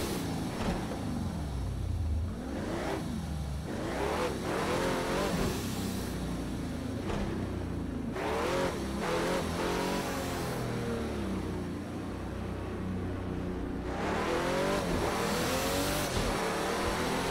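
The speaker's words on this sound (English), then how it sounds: "The engine is a V12 AMG source," A Pagani Huayra BC with a twin-turbo AMG V12 roars in Project Cars 2 at Azure Circuit, France, its engine note sweeping up and down through repeated gear changes, loud and continuous, with occasional tire squeal.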